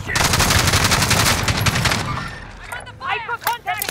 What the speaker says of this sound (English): Oh, I'm getting shot already.